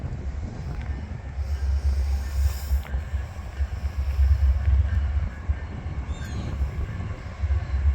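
A heavy southbound freight train rumbles past on the Canadian National-CSX line toward a diamond crossing in wind and rain, a steady loud low roar of rolling cars lasting throughout with a brief faint wheel squeal.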